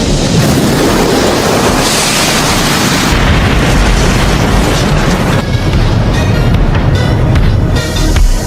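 Fire Style jutsu explosion effect from the Naruto anime: a continuous loud, roaring, rumbling blast that fills the whole stretch without a break, dense and booming, with no voices over it.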